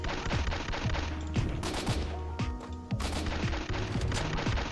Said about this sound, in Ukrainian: Стріляю, давай по піхоті спочатку